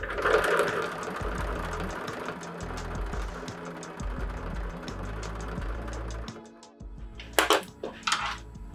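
A sewing machine stitches a mesh bag onto a fabric book cover, its steady low motor hum and rapid needle clatter running continuously, pausing briefly before a few sharp clicks and knocks near the end.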